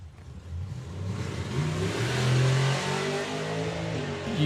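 A drag racing car launches hard off the line at Dragstalgia 2026, pulling a wheelie, its engine roaring and swelling into a loud, sustained revving blast that builds and holds over open-air ambience.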